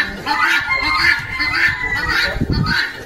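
Loud, repeated honking cries from a fowl on a farm, several harsh calls in quick succession close by, with a voice speaking briefly over them.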